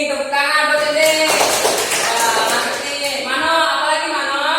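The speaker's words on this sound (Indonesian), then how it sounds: "Tepuk tangan buat ini." Children clapping hands together in a classroom, a burst of dense applause lasting about two seconds, with a teacher's voice speaking before and after it.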